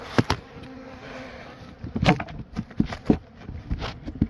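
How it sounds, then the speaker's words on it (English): A steady buzz of many honeybees from an open hive fills the background, with knocks and scraping sounds of handling close by. "There's a lot of bees in there."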